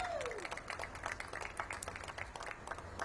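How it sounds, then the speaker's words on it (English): Applause from an audience at a Washington, DC mayoral event, a moderate, fairly even patter of clapping hands heard across the whole moment, somewhat distant and not especially loud. "So give them a big round of applause."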